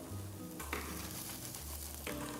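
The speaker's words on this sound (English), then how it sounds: "About 3 tablespoons of olive oil out there. And then we're going to add the onions." Onions sizzle and crackle in hot olive oil, a close, steady frying hiss with a few stirring scrapes of a wooden spoon.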